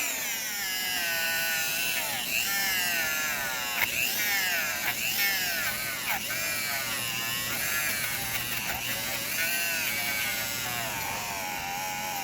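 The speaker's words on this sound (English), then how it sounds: "or in this case, use your Dremel, and it's going to shine up." A Dremel rotary tool whines continuously while polishing a part from a 1940s–1950s GG Berg count wheel cuckoo clock, its high-pitched motor pitch wavering up and down as pressure changes, close and steady.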